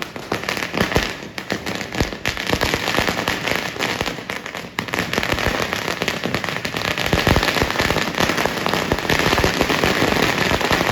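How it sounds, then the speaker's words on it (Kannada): Firecrackers set off during the Gauri Ganesha festival celebrations, a dense, continuous crackle of bursts and pops throughout, loud and sustained with sharper bangs scattered across it, no talk heard. "ಇವಾಗ ಪಟಾಕಿ ಹಚ್ತಾ ಇದ್ದಾರೆ"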